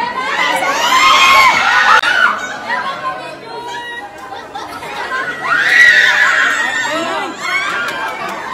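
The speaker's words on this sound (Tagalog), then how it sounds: "hiyawan at sigawan ng mga fans ang maririnig sa paligid" Fans shouting, cheering and screaming at a movie premiere night, a loud crowd roar in two surging waves with overlapping excited voices and some laughter.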